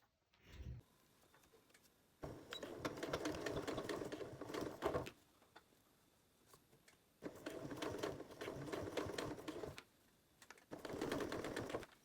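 A sewing machine stitches bias tape onto a waterproof bowl cover in three long, close, rapid mechanical runs, with brief pauses and faint handling between them.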